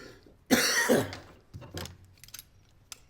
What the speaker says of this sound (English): Oh, this damn cough.